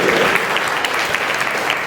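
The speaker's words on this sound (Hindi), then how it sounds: "एक बार अपने लिए तालियां बजाइए" Dense applause from a crowd at the closing ceremony of a moral education camp in a temple hall, steady and loud throughout with no pauses.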